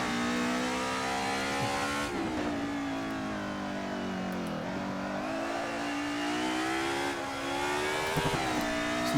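A BMW M3 DTM race car accelerates hard through a turn on a track, its engine note loud and close with a sustained rising and falling whine and gear changes, alone without talk.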